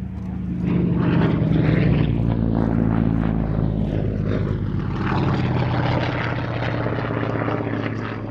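A Czechoslovak-built Yak C11 trainer from the Let factory flying at a Shuttleworth race day air show, its piston engine and propeller droning loudly and steadily overhead for the whole stretch, with no voices.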